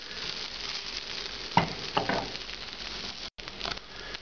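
Peppers frying in a pan on medium-high heat for an Oaxacan pork mole, giving a steady close sizzle throughout with a couple of brief louder stirring scrapes and a momentary dropout near the end.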